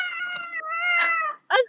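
A pet cat gives a drawn-out, tonal, wavering meow, then a short, sharp second meow after a brief pause, fairly close and moderately loud with no talking.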